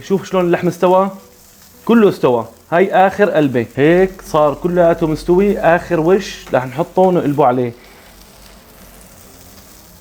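Veal fillet sizzles on a grill: a steady, soft frying hiss runs beneath someone talking almost continuously, then stands briefly on its own at the end.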